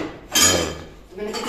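Pots, pans and dishes knock and clink as they are handled for washing in a village kitchen, with two bursts of metal clatter separated by a short lull.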